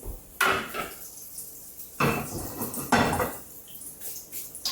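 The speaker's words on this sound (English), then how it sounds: "And we're gonna put that, oh yeah, right inside our pan." A pastry turnover, apple filled with rum, is set into a frying pan on a home stove, giving a few soft clatters and light clinks of pan and utensils at intervals, close by, with no talk.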